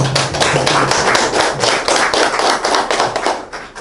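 A seated audience at a book launch and panel discussion gives loud, sustained applause of encouragement. Rapid overlapping claps run close and steady, then begin to thin out at the very end.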